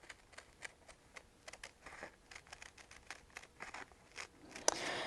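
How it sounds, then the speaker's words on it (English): Scissors snipping through applique fabric during quilt block preparation, a series of faint, quiet crisp cuts in an irregular rhythm, close by with no talk. "make a nice, neat cut here on this"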